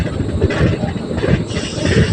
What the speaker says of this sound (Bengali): একদম স্লো হয়ে গিয়েছে ট্রেন